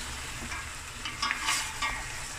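A tomato ox trotters stew with crushed and fresh chili sizzles in the pot, a steady close hiss with a few louder stirring scrapes, and no voices over it.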